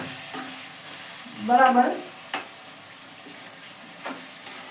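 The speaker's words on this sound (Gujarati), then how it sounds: "હવે આપણે એને બરાબર રીતે મિક્સ કરી લઈએ।" A spoon stirs a spinach, potato and tomato curry in a pan, a short burst of wet scraping and sizzling with a couple of light taps around it, close and clear.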